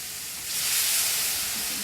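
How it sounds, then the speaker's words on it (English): Water poured into a hot pan with butter and apples bursts into a loud, broad steaming hiss that swells after a moment of quieter sizzling and holds steady, close up with no talking. "You can see that just steam right up, and that will deglaze the pan a little bit too"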